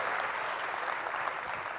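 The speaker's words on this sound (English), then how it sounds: "Come on, give them a round of applause." Sustained audience applause for volunteers at an annual conference, a dense, steady wash of many hands clapping that holds evenly throughout, close and fairly loud.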